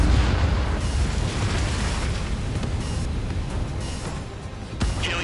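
Missile explosions in the Ace Combat 7 air combat game, a loud continuous rumbling roar of blasts with deep booms running throughout and a sharper burst near the end.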